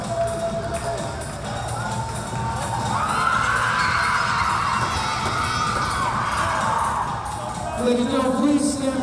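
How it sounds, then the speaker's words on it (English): A crowd at a community college women's volleyball district tournament in Queensborough roars for the student athletes, with sustained cheering, whoops and shouts swelling in the middle and voices mixed through the din. "Let's give all of our student athletes a great big round of applause."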